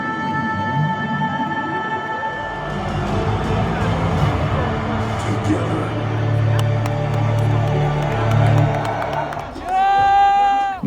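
Raw crowd at Madison Square Garden roaring with sustained cheering and whoops, a dense wall of noise from a packed arena that swells near the end as loud intro music kicks in, with a voice talking over it.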